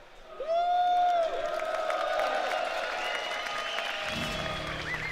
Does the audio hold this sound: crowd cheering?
yes